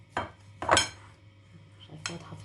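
A spoon stirring Nescafe in a bowl while making coffee-cinnamon biscuits, a few quick scraping clinks against the bowl separated by short quiet gaps.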